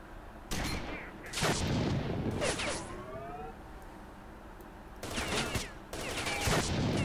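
Gunfire in S.T.A.L.K.E.R. Shadow of Chernobyl comes in a few separate bursts of shots with sharp echoing cracks, fairly distant and moderate in level, separated by stretches of low ambient hum.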